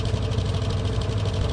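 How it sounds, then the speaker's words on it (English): Vehicle engine sound effect from the Tower Unite video game, resembling an old truck engine, a steady rough idle with a low rumbling pulse, loud and continuous with no talk. "it kind of sounds like an old truck engine to me"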